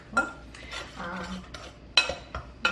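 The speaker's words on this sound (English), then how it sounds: "we're going to give that a quick little mix with pastry blender" A pastry blender works galette dough in a bowl, giving light scraping, clinking strokes against the bowl, close and quiet, in a few irregular bursts.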